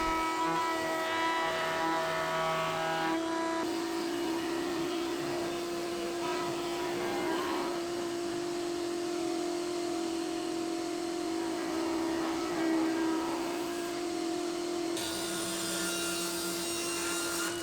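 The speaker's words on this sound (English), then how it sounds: "I take it off to the router table and just template route these parts out." Router table template-routing wooden dining chair parts, a continuous loud, steady high-pitched whine with a roaring cutting texture that shifts slightly as the workpiece moves along the bit.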